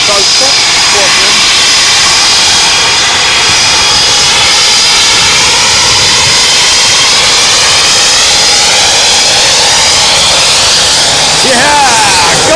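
Two RAF Eurofighter Typhoon jets depart at Coningsby with a loud, sustained roar that fills the whole clip, turbine whine sweeping overhead, with people talking underneath.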